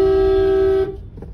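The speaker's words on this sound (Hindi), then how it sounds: "सुनते ही नहीं है, मैं हॉर्न बजा रहा हूँ" A single sustained car horn blast on a street, loud and close, holding a steady tone for nearly a second before stopping abruptly, followed by faint traffic noise.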